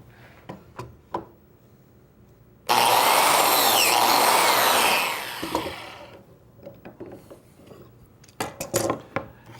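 A power tool cuts a slot in the end of a wood board clamped to a bench, giving a loud, steady whine of about three seconds. Clicks and knocks of handling come before and after the cut.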